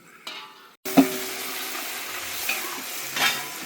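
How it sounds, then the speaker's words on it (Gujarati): Spices tempered in hot oil for Gujarati tuver totha sizzle loudly and close by, a steady hissing fry with stirring clinks, starting abruptly after a brief pause. "બરોબર વઘાર થઈ ગયો છે"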